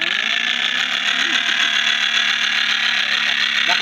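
A 200cc motorcycle engine with an open exhaust pipe revving hard, a loud continuous raspy roar close by, with people talking over it.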